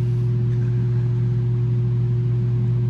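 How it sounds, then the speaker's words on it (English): A car heater blower runs in a steady, unbroken drone with a strong low hum, close and continuous, with no talk over it. "The heater running, it'll shut off in a minute"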